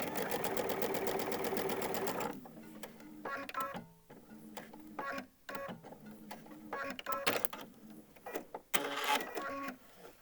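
A sewing machine stitches a fabric organizer pad with a brisk, steady whirring run. It then stops and gives way to scattered clicks and short mechanical taps as the fabric is handled.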